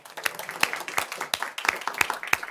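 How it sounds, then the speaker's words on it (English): Meeting attendees applaud in a room, a brief patter of many hands clapping at close range, fairly steady and moderately loud for a couple of seconds. "I just want to give one more round of applause"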